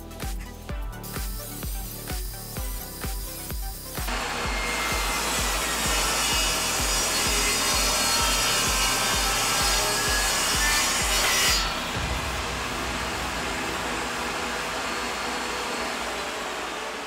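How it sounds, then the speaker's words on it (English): Wood boards are ripped to width on a table saw: a series of rhythmic knocks and scrapes as stock is set up, then the blade whines steadily through the cut for several seconds before spinning down, loud and close. "Let's rip these boards to 4 inches."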